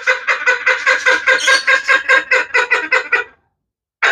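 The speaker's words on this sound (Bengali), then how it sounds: "দেখছেন অনেক অ্যাক্টিভ পাখি।" Indian Ringneck parrots give a rapid run of about a dozen harsh, rhythmic squawks, loud and close, then fall silent briefly before another call starts at the end; no one speaks.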